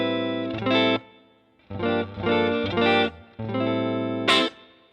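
Electric guitar played through a Line 6 Helix multi-effects unit, with distorted sustained chords in several separate bursts, a chorus-like shimmer and reverb tails, ending on a bright high accent.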